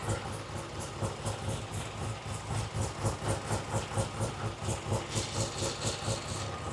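A 1967 Triumph TR6 engine idling on its first start, a steady rhythmic mid-pitched idle with even regular pulses, moderately loud and close, with no talk over it.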